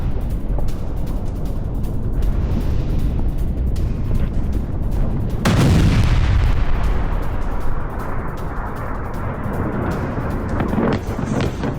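An Israeli airstrike hits Hezbollah targets in South Lebanon: a loud blast bursts out midway, followed by a heavy rumbling roar, with wind buffeting the microphone throughout.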